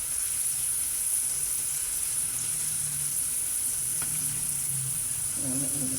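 Squash fries sizzling in hot oil during a second fry, a steady loud hiss and crackle that runs without a break, with a faint clink near the end and no talking.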